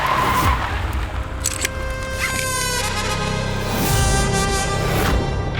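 A car skids to a halt with a long tire squeal of rising and falling tones lasting several seconds, loud and close over a steady engine rumble.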